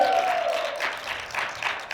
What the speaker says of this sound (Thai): ปรบมือดัง ๆ